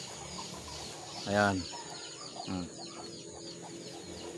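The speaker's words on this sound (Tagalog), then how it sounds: "At ito pa yung aking isang manok, nakadapo pa po." A perched chicken gives a couple of short clucks, one louder burst then a softer one, close by over a steady background hum, with a person briefly speaking.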